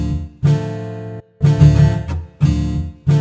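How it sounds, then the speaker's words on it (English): A looped, chopped guitar sample repeats in short bursts of about a second each, separated by abrupt gaps, with a thick low-heavy tone that starts and stops sharply, played alone. "It's a chopped up guitar loop."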